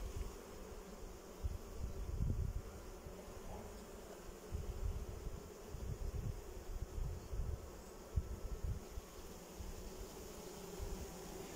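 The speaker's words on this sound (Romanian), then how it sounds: "foarte multe albine stau pe loc și dau din aripi" Honeybees fan their wings at the entrance of a hive in an apiary, a faint, continuous low buzzing hum with gentle swells and no voices.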